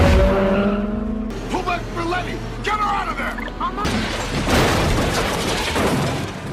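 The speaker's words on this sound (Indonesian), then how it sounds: "mobil Letty terkena senggolan ban dari truk yang membuat mobilnya hilang kendali dan mengalami kecelakaan" Car knocked by a truck's tyre, losing control and crashing during a street race: loud engine roar with tyre skids and squeals, then a burst of broadband crash noise as the wreck unfolds, with a voice briefly heard over it.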